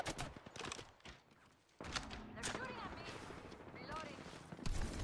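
Rapid bursts of gunfire in Apex Legends while playing Valkyrie, crackling shots and short automatic volleys over a busy game mix, with a voice talking over part of it.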